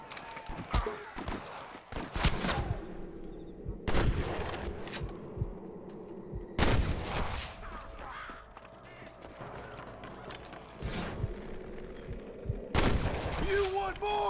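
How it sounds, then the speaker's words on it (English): Gunfire in a Red Dead Redemption shootout, loud sharp bursts of rapid shots in several volleys with quieter gaps between them, mixed with footsteps and occasional voices. "Damn fine shooting, boys."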